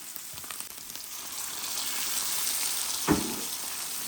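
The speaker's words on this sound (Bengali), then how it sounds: "একটু মশলাটা কষানো হোক" Spice paste with chili powder fries in hot oil, a steady, close, hissing sizzle throughout, broken near the end by one brief clatter of stirring, with no voices.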